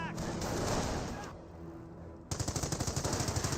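A .30 cal machine gun emplacement firing in the World War II strategy game Company of Heroes: after a rumbling stretch of battle noise, a rapid burst of about a dozen evenly spaced shots lasts over a second.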